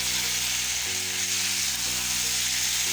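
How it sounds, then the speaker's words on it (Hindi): Chicken keema with chopped green chillies sizzles and fries steadily in a pan, a loud, continuous hiss close by with small shifts as it is stirred, and no one talking over it. "इसे हम अच्छी तरह भूनेंगे।"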